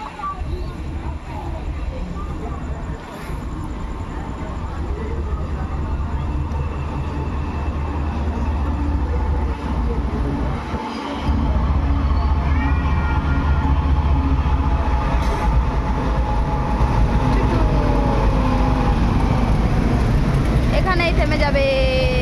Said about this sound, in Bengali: দেখবি না ট্রেন?